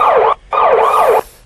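An emergency vehicle siren wails in rising and falling sweeps, loud and close, broken by a short gap before the tone resumes, then cutting off.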